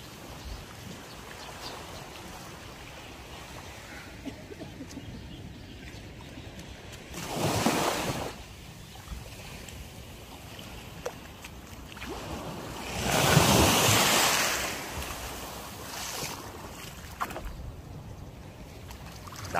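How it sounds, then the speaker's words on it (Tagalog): Sea waves roll in at Rizal Beach Resort in Gubat, Sorsogon, a constant wash of surf with wind buffeting the microphone and two larger breakers swelling and crashing about six seconds apart. "Dagat."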